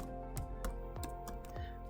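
A short burst of several crisp keystrokes on a computer keyboard as a web address is typed, close and clear over a faint hum.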